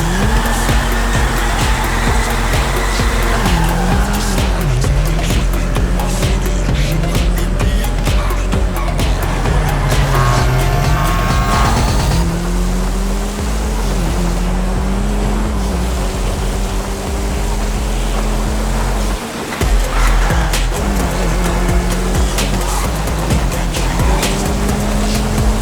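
A car in GTA Online roars at full throttle after performance upgrades, its loud engine droning steadily with rising and falling pitch sweeps as gears change, accompanied by tire noise throughout.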